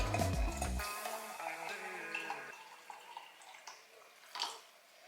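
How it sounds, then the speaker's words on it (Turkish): Previously boiled water is poured into a container already half full of hot tap water, giving a steady splashing pour that tapers into lighter trickles and drips. "Daha önceden kaynattığım suyu da üzerine biraz ilave edeceğim."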